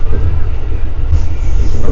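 A Jakarta commuter train rumbles loudly and continuously at close range from inside or beside the carriage, with no talk.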